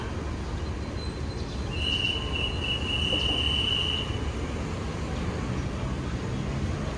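Train at Salaya railway station, a steady broadband rumble of rolling wagons with a long high wheel squeal rising in the middle, continuous and fairly loud.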